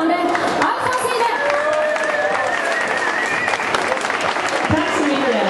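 Loud crowd applause and cheering for the first contestant at a Swedish summer music show, a dense wash of clapping with an announcer's voice ringing over it.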